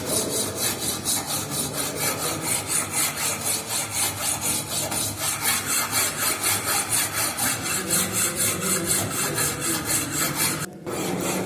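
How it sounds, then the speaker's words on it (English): A rough hand file rasps across metal in a workshop, giving a fast, steady series of close, loud strokes that continue almost without pause and break off briefly near the end. "first we use rough file, okay, to remove excess material"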